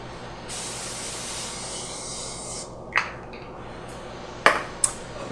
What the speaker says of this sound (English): Lightly grease a pan.